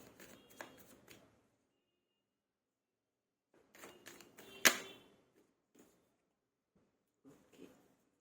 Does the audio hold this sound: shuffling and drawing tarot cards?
yes